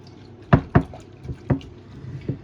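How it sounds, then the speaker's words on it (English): Vegetables being rinsed in water make a handful of close, distinct splashes and sloshes at irregular intervals, with quiet pauses between them. "So I'm gonna put them in the water and rinse them really good"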